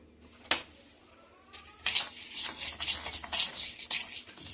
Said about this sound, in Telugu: ఈ విధంగా ధనియాలు వేయించుకోవాలి కొద్దిగా కలర్ చేంజ్ అయ్యే వరకు